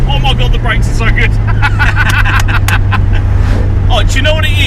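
A 500 BHP Ford Escort Cosworth engine accelerates with a loud, steady low rumble as it pulls, with people talking over it inside the car.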